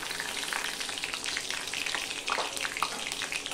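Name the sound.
panch phoron spices frying in oil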